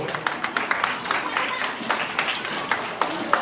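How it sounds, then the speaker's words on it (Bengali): Applause honoring teachers at a school felicitation ceremony, scattered claps rising over a murmuring crowd, moderately loud with distinct individual hand strikes. "একটু হাততালি হোক"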